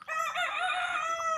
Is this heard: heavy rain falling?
no